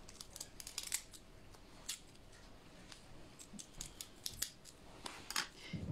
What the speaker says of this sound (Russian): ножницы зигзаг.